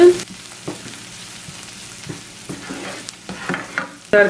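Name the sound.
green chilli and fish filling sautéing in a pan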